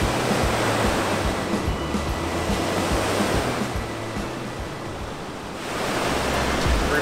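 Ocean surf roars steadily nearby, a dense wash of breaking waves that dips slightly and then swells again, with a low rumble beneath and no talking.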